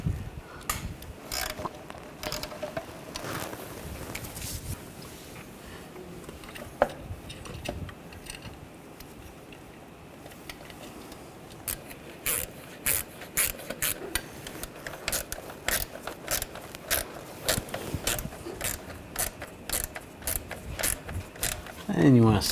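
A ratchet snugging down throttle body bolts on a Volkswagen Tiguan engine, heard as runs of rapid clicking pawl strokes, close and loud, with quieter handling noise between bursts.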